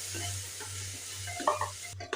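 A spoon scrapes and stirs thick spice paste in a pressure cooker over a low sizzle, with a few clinks of metal near the end.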